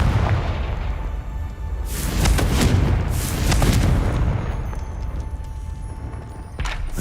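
A Confringo fire spell bursts in Hogwarts Legacy with a series of loud booming blasts, one after another, over a low rumbling background.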